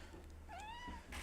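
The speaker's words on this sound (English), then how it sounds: "If you can hear purring and meowing, that's my new cat." A pet cat gives a single rising-then-falling meow, close but faint, over a quiet background.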